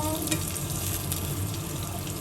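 Slices of Matsusaka beef fry in a little olive oil, giving a steady close sizzle with a few soft stirring scrapes throughout and no talk.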